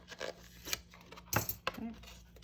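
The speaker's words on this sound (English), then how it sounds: "Pulling the tape up." Tape being pulled up from a package of stamping supplies, a few quiet ripping and crinkling bursts close by, with faint movement around it.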